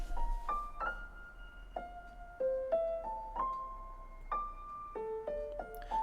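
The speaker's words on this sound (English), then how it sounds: "Part is another piano coming in with a counter melody, layering the chords" A piano counter melody moves in steady single notes through layered chords, walking up and down at a moderate pace. The tone is soft and clean, with a quiet low sustained bass underneath.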